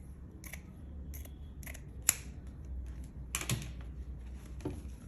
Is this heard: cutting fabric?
yes